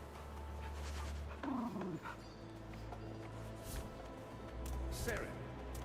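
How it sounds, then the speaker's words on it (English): A dog in the video game No Rest For The Wicked gives brief whimpers and yips over a low ambient hum, with a person talking nearby. "Can I pet that dog?"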